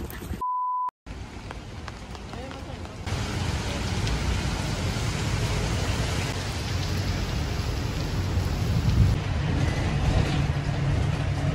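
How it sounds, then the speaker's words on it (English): Rain falls steadily on a city street in Singapore, a dense, even hiss of drops that grows slightly louder, preceded by a brief electronic beep near the start. "It's currently raining"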